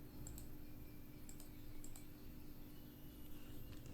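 Computer mouse clicking while drawing in AutoCAD: a few faint, quick clicks in scattered pairs over a low steady hum, no voices.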